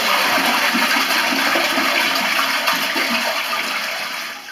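A toilet flushes loudly and close by while its cistern float is being adjusted, a continuous rush of draining water that holds steady and then begins to fade near the end, with no talking.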